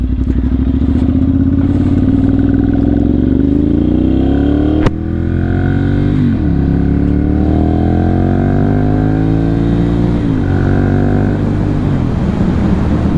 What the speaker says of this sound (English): Now this is the Ducati Monster 796. It's a 2012 model.